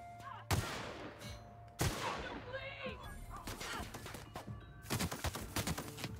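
Pistol gunfire in The Outer Worlds video game, several sharp shots spaced across the moment with a steady in-game hum beneath, plus shouted reactions and scattered combat noises.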